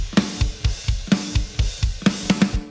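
Mixed drums through a drum bus for a track, a steady groove of punchy kick thumps, snare hits and ticking cymbals in a regular rhythm, moderately loud with no talking.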